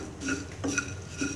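Pumpkin seeds roasting with pepper powder in a pan, heard as three soft, regular scraping and stirring strokes with faint crackle, close and quiet, without talk.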